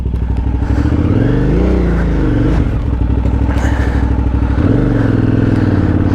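KTM 990 Adventure motorcycle revs and surges toward a small sandy jump, its big twin engine rising and dropping in pitch as the throttle opens and backs off, loud and close with clatter from the bike.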